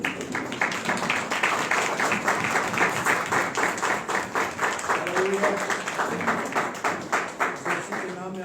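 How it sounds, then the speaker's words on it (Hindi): A church congregation claps for the Lord in a strong, regular rhythm, many hands striking together beat after beat, with a voice speaking over the clapping. "एक बार प्रभु के तालियां देंगे।"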